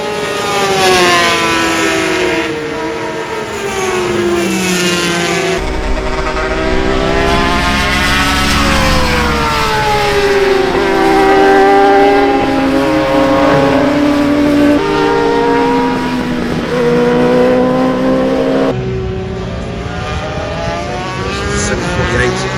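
Ducati and Honda RS250 two-stroke racing motorcycles screaming past flat out at a Festival of Speed event, rising and falling engine pitch through gear changes, loud and close, with a commentator talking over it.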